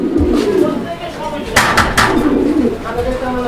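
Close, repeated low cooing of pigeons in throaty rolling calls, with a few soft flutters in between.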